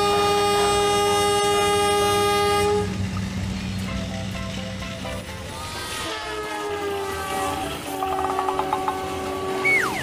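A Thomas the Tank Engine toy train's loud horn blares steadily at the start, then gives way to rattling wheels and rolling clatter, with short tooting whistle bursts near the end.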